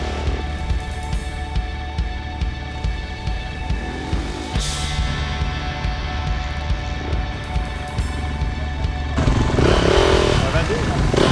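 Supermoto motorcycles idle and rev while warming their tyres on the grid before a race, a steady loud engine drone with rising revs toward the end, heard from close by with a commentator talking over it.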